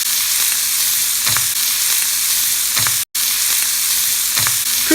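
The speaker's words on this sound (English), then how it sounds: "Cook your sausage for 4 minutes on medium." Sausage frying in a pan over medium heat gives a steady, close sizzle, with a few soft spatula scrapes spaced through it and one brief dropout in the middle.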